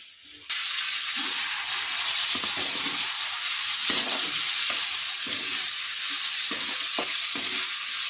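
Bitter gourd fries in a pan with a steady loud sizzle and hiss, while a utensil stirs it in intermittent soft scrapes and knocks.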